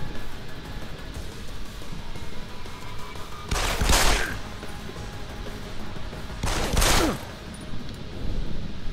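Two loud, separate gunshot blasts from a real firearm in Deus Ex: Human Revolution, a few seconds apart, over a steady rumbling game ambience with no talk.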